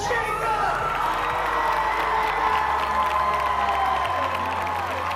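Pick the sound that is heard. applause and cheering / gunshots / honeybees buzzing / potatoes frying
applause and cheering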